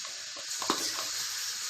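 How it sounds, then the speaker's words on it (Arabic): Grated onion frying in ghee sizzles steadily at close range, with a soft stirring scrape briefly rising through the hiss. "اشوح البصل"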